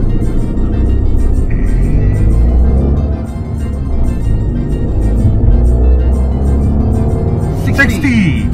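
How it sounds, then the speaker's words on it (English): A Fiat 500 with a sub-one-litre two-cylinder turbo engine drones steadily from inside the cabin as it accelerates, loud and close, with voices talking over it. "The Fiat 500 is propelled by an engine that's less than 1 litre in capacity."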